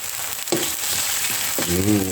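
Tomatoes sizzle and fry in a pan while being stirred, with a steady crackle broken by a few scraping stirs and clinks close by.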